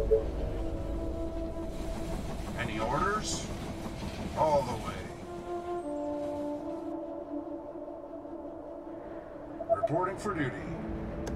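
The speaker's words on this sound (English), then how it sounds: "The train has arrived at the station." Game sound of a train pulling into a station in They Are Billions: a rumbling rail roll with steady mechanical hum and several clanking bursts, under a voice speaking over it.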